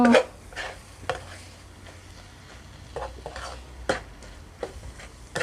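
Pork stir-fried with egg in a pan over raised heat, a soft sizzle under repeated scraping and clinking of a spatula against the pan, with no speech.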